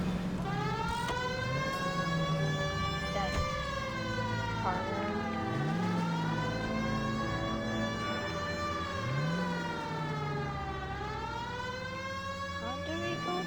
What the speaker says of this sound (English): You know we've got a siren, Phelps.